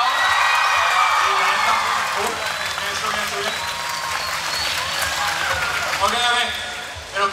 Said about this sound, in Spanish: Quiero que le den un aplauso al pez arreglando la cosa esa.